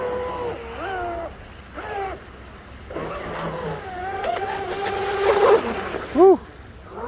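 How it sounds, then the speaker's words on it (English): A small radio-controlled boat motor whines and revs out on the water, pitch rising and falling, while a voice talks over it close by. "Beautiful running boat now."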